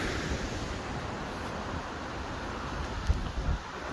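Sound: River Orchy flowing water

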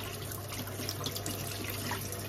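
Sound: tap water running while rinsing sorrel (hibiscus)

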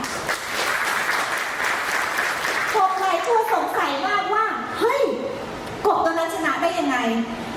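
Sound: audience applause

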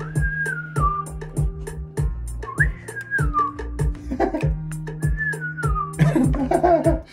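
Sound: person whistling a melody

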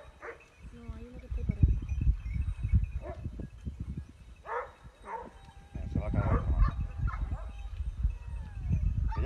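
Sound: pack of dogs barking while hunting a deer

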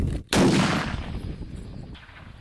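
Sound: gunshot

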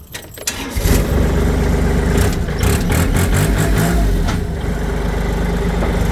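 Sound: tractor diesel engine starting and idling

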